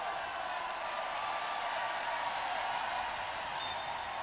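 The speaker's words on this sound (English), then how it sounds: "The crowd's doing a wave." Arena crowd at a women's wheelchair basketball game yelling steadily as they do a wave, a broad, continuous roar of many distant voices with no break.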